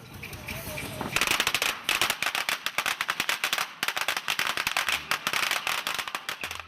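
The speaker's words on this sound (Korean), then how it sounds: "큰맘 먹고 구해온 폭죽을 터뜨리며 미리 액땜도 하고" Firecrackers go off in an old mining village in Nanquan, China, during a ritual fireworks celebration, a rapid loud string of sharp crackling bangs bursting close after a brief murmur of background noise.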